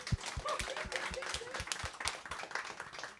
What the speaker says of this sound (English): let's give a big round of applause to Deborah Ledford.